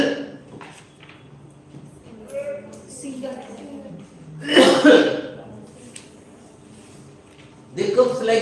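A person imitates a cough, with two short, harsh bursts breaking up a stretch of speech.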